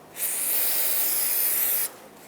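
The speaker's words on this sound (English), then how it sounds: "I'm going to rinse it down with brake parts cleaner" Brake parts cleaner sprays from an aerosol can onto the front brake caliper bracket of a 2014-2019 Toyota Highlander. One close, continuous hiss lasts under two seconds, then cuts off.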